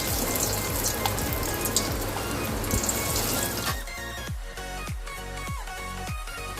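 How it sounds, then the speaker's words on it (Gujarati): Potato cheese balls fry in hot oil with dense, loud sizzling and crackling that settles into softer bubbling and popping toward the end, close up with no talking. "તો હવે આપણે એને ફ્રાય કરી લઈએ."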